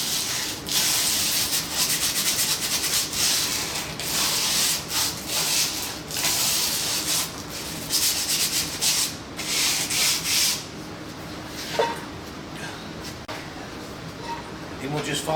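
Hand sanding a 1970 Dodge Dart rear brake part with 60 grit sandpaper: rapid, rhythmic scratchy rubbing strokes, close and continuous before easing off, with someone talking throughout.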